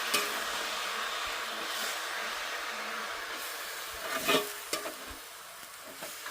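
Food sautéed in a pan, a constant close sizzling hiss with a few sharper clinks and scrapes of stirring near the end.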